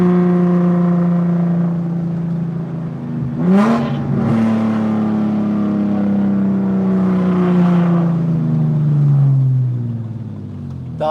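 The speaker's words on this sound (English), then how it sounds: "The loudest downshift ever, though." Car engine during a loud downshift, with a steady droning tone that blips sharply upward as revs jump, then drags back down. It stays loud and close, with no talking.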